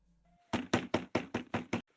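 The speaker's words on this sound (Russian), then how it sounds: "Стучит кто-то." Seven loud, evenly spaced knocks strike a door in quick succession, sharp and close, after a brief quiet tone, with no voices over them.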